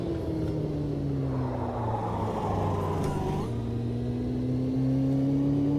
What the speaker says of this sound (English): I've got my foot flat down in 2nd gear and it's just not accelerating